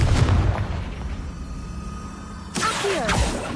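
The Confringo fire spell in Hogwarts Legacy goes off as a loud, close booming blast that fades, followed by a second rumbling burst with debris-like crackle.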